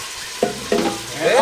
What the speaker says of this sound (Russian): Шумит, скворчит, жарится.